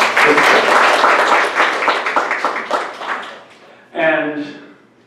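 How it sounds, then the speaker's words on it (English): Audience applause at a workforce development board meeting, busy clapping that starts loud and thins out, then a voice briefly speaks after it fades. "let's give everybody a round of applause for that"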